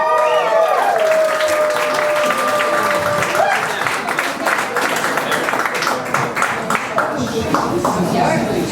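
A club audience gives a loud, sustained round of applause to welcome magician Keith Brown to the stage. Dense clapping mixes with crowd noise and a brief whistle near the start.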